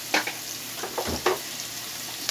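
Garlic paste sizzles in a hot frying pan, a steady crackle broken by a few sharper bursts and a brief low thump, close and alone with no talk.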